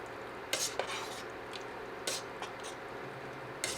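Spoon stirring homemade hickory-smoked vegetable beef soup with big chunks in a pot, giving three brief scraping clinks at steady intervals against a faint background, with no talking.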